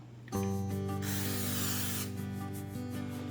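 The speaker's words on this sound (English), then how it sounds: "I'm just gonna spray it real quick with Pam." A second-long hiss of Pam cooking spray from an aerosol can onto an 8x6 Pyrex glass baking pan, set against a steady humming tone in the background.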